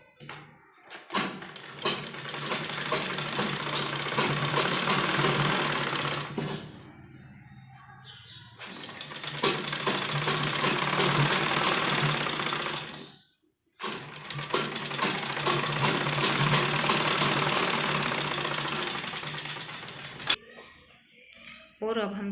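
A sewing machine stitches along a sleeve edge in three long continuous runs broken by short pauses, a close, steady mechanical whir with no talk.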